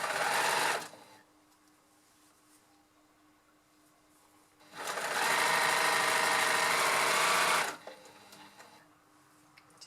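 A sewing machine stitches a sleeve seam in knit fabric, running in two loud, close bursts separated by a quiet pause with a faint hum.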